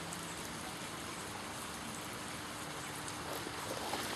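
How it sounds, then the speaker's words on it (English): A formal garden fountain runs steadily, its water splashing and pattering as a continuous broadband wash with no pauses, close and moderately loud. "This is kind of a formal type fountain."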